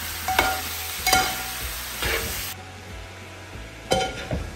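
Chicken sautéing with crushed ginger and garlic in a pan for Pakistani chicken curry, a loud steady sizzle broken by repeated spatula scrapes and stirs about once a second, close by with no voices.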